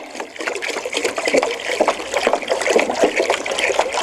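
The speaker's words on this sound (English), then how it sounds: "And as I'm pouring here," Steam distilled water pours from a jug into a pot for bone broth, a steady close splashing trickle running the whole time with no talk.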